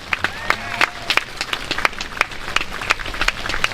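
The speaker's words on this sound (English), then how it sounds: "Another round of applause for all of us." Scattered applause from a small crowd, individual claps distinct and uneven in a sparse, ragged pattern, moderately close.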